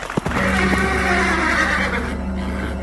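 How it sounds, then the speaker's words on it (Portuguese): A horse whinnies loudly and close as a dramatic sound effect during a Portuguese reading of the pale horse from Revelation, with a sharp hoof clop at the start and a sustained neigh over a steady low drone. "Olhei e vi um cavalo amarelo."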